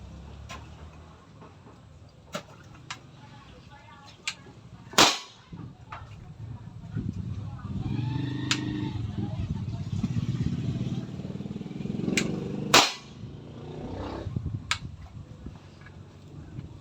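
An unregulated PCP airgun fires two sharp, loud cracks several seconds apart at a target, amid faint ticks and low background rumble.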